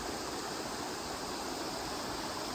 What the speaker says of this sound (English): Listening to Babbling Brook as we go.